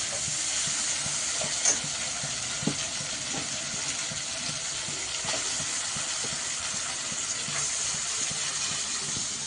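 Taro leaves hit a hot pan for a taro-greens-and-shrimp dish, giving a loud, steady sizzling hiss that runs the whole time, broken by a few small pops and crackles.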